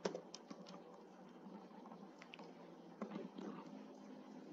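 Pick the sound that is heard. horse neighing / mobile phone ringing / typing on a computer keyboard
typing on a computer keyboard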